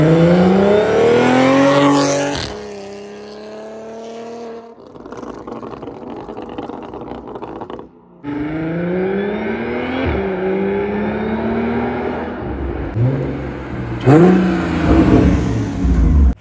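A 2023 Kia Stinger GT2 twin turbo accelerates hard with JB4 mods, its engine rising in repeated loud climbing pulls through gear changes, dipping briefly between bursts.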